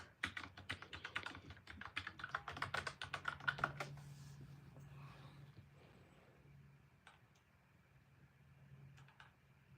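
Rapid clattering keystrokes on a computer keyboard during a search for guitar pickup listings, dense and close for about four seconds, then thinning to a few scattered taps over a quiet low hum.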